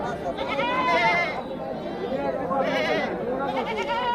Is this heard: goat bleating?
yes